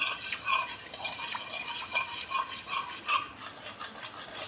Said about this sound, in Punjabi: ਚੀਨੀ ਨੂੰ ਆਪਾਂ ਜੀ ਚੰਗੀ ਤਰ੍ਹਾਂ ਮੈਟ ਕਰ ਲਈਏ